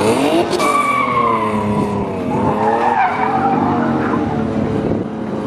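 A BMW E36 drift car, its fender missing, spins a donut with loud sustained tire squeal that wavers in pitch over a revving engine, close by and dominant throughout.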